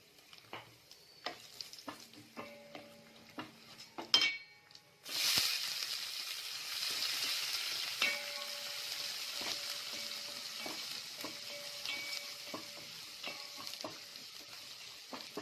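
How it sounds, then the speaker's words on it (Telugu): Onions frying with cumin, cashews and dried chilies for milk upma: a few soft stirring clicks, then a loud burst as the onions hit the hot oil, settling into a steady close sizzle with spoon scrapes over it. "ఉల్లిపాయ లైట్ గా బ్రౌన్ కలర్ వచ్చేంత వరకు వేపుకోండి"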